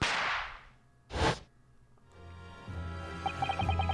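A Venus special firecracker from the video game The Great Ace Attorney 2 goes off in a single sharp crack, preceded by a hissy burst and followed by quiet game music.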